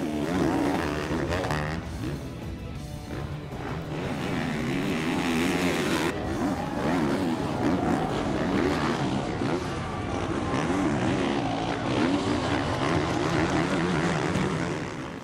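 Motocross bikes race at the Red Bull Straight Rhythm event, their engines giving a loud, steady roar that rises and falls over a course of 80 jumps, with the dense noise of a crowd and track underneath.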